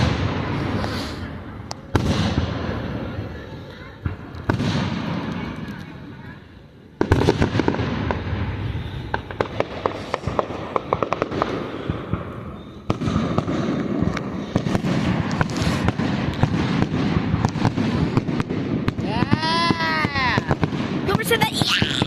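Fireworks burst during a firework show in the Sonic Adventure video game, a series of loud pops and crackling explosions with whistling rises, while people talk over them throughout.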